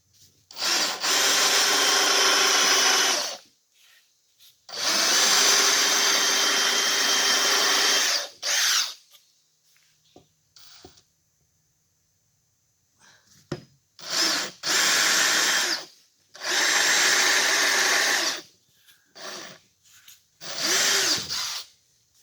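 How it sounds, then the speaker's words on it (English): Power drill countersinking screw holes in wood for serving tray handles, several loud close bursts of whining drilling, each a few seconds long, separated by silences and small handling clicks. "We'll countersink these two here."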